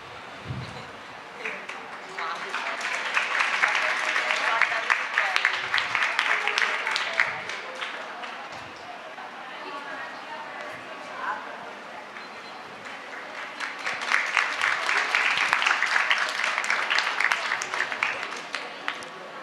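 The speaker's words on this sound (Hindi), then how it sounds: "तालियां बजाकर मैम का सम्मान करेंगे।" Audience applause honoring a woman guest at a women's strength workshop session, a dense clapping wash that swells, eases in the middle, then rises again across about twenty seconds, with some voices mixed in.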